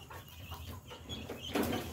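A chicken clucks at feeding time as it's fed with a spoon, the calls fairly close and repeated, with a louder burst near the end.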